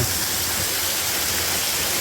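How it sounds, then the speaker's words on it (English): A big waterfall pours inside a large cave, a loud continuous rushing roar of falling water with no break. "You can see the big waterfall."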